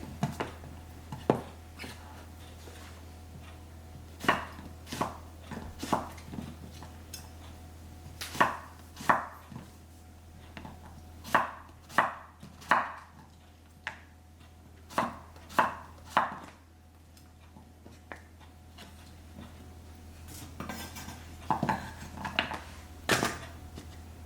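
A knife slices yellow squash into half moons on a cutting board, producing sharp, close chopping knocks in irregular bursts, some quick pairs and clusters separated by pauses, over a quiet steady background hum with no speech.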